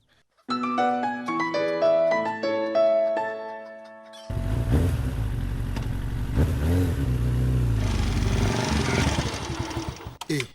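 A loud motorcycle engine starts up after a short melodic jingle, then runs and revs steadily for several seconds, close by, with a rough idling rumble.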